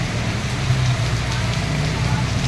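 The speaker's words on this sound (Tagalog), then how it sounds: "Sobrang lakas ng ulan" Heavy rain during a storm in the Philippines pours down as a loud, continuous hiss with a low steady rumble underneath and no talking.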